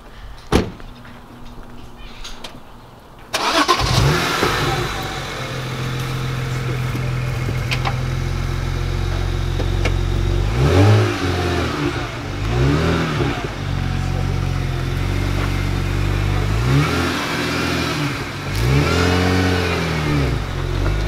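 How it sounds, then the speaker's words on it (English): A BMW 335i revs up after a short quiet start, its exhaust burbling and popping loudly and close by, with several rising rev swells and crackling overrun. "Exhaust burble."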